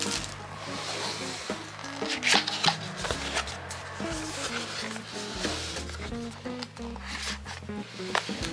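Packaging for a DJI Mavic 3 Classic drone being opened by hand: close crinkling of a plastic bag, cardboard rustles and soft taps, with a person speaking over the handling.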